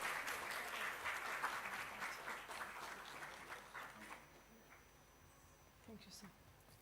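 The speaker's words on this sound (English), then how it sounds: "Please give him a big applause." Audience applause at a university orientation session for a regenerative medicine institute, a dense wash of clapping that is loud at first and gradually thins and fades, with some talk mixed in toward the end.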